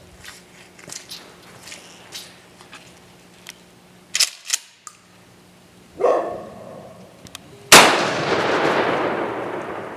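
A 12 gauge shotgun firing a Multiple Impact Bullet round outdoors, one loud blast near the end with a long rolling echo, preceded by faint clicks and handling noises.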